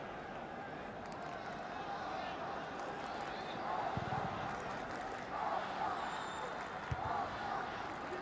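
A crowd in a stadium of about 25,000 fills the air with a steady murmur during an AFC Champions League round-of-16 football match between Al Ain and Nasaf, under constant commentary.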